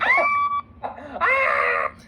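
A person lets out excited, high-pitched screams at a book release celebration for a novel, two loud bursts separated by a short pause, sounding close and alone.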